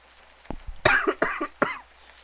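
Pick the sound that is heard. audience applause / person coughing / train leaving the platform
person coughing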